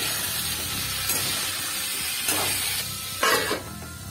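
Vegetables frying in a pan for a vegetarian masoor dal, a continuous close hissing sizzle with a few brief bursts of stirring and louder spitting, and no voices.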